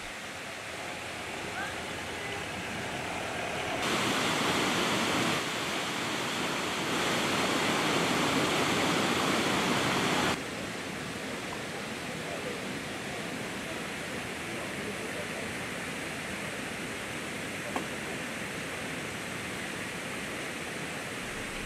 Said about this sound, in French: Nous sommes au ravitaillement de la cascade de Mas.